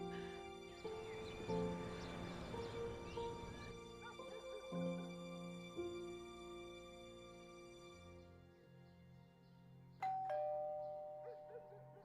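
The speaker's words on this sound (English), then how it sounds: "I was laying on the couch when the doorbell rang." A doorbell rings indoors with sustained ding-dong chime tones that fade out, followed by a fresh, louder strike near the end, with no talking.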